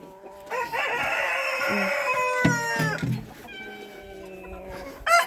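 Poultry let out of a coop on a farm: a rooster crows loudly and close by while chickens cluck around it, and a couple of short squawks and calls follow. Background noise stays low.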